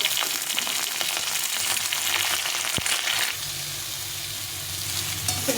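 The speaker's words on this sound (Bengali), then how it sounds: "এখন আমি সিম আর বেগুনগুলো দিয়ে দেবো, দিয়ে এগুলো একটু ভেজে নেব ভালো করে।" Potatoes, flat beans and brinjal frying together in a pan, a continuous dense sizzle with occasional stirring scrapes and a single sharp knock partway through, the frying settling into a lower hum near the end.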